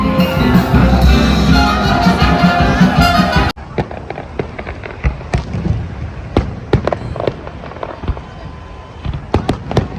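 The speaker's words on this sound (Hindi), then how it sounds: "फॉर्चुनेटली आज फायरवर्क्स हो रहे हैं यहाँ पर।" Fireworks burst at Global Village in Dubai, with loud sharp cracks and pops, scattered and repeated, after a dense, noisy crowd-and-music din cuts off abruptly partway through.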